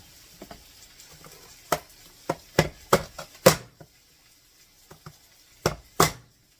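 Knife chopping through kielbasa sausage on a cutting board, a loose run of sharp close cuts in small bursts with short pauses between, no voices.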